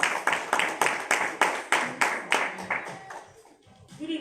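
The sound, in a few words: applause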